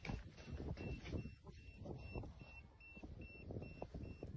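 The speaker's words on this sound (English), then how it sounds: "The beeping you hear in the background is what's been called a sugar cube." Personal drone alarm known as a sugar cube, beeping in a steady repeating series of short, high, thin tones behind loud rumbling noise and shouting voices.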